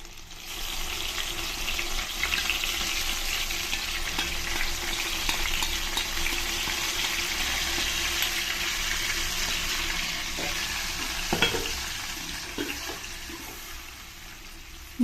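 Marinated vegetables for a vegetable dum biryani sizzle in hot oil in a pan, a steady, loud frying hiss with a few stirring scrapes near the end.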